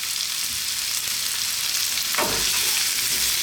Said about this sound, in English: Let's just stir fry this